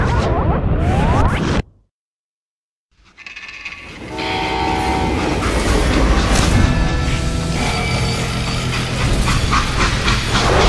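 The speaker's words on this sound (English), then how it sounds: "How'd they stop this train in the first place?" A steam-era freight train in the Call of Juarez: Gunslinger video game rumbles loudly with clanking wheels and a sounding horn, after a brief silent gap, and no one talks.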